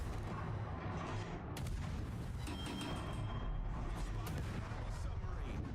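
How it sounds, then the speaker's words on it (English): Depth charges exploding in World of Warships, a steady barrage of deep booms and rumbling blasts layered over continuous battle noise, loud and dense throughout. "I might actually dump depth charges right here."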